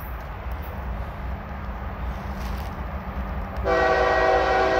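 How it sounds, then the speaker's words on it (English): A CSX freight train rumbles through town with a low, steady rail roar, then its horn blasts loud and sustained near the end, with no talking. "Train's coming."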